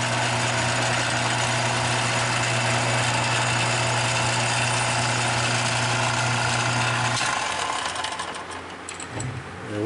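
An aluminum part turning on a metal lathe for a quarter-scale build makes a steady, loud mechanical hum with tonal motor drone that runs unbroken for most of the time, then winds down and changes near the end.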